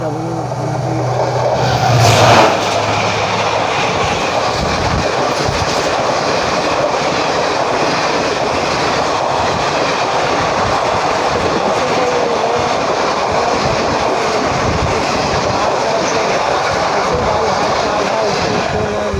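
Howrah–Sainagar Shirdi express train starting up and running, a steady loud rumble of wheels and carriages filling the whole stretch, with a brief louder burst near the start and faint voices in the background.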